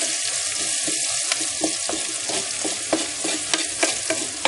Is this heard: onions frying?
yes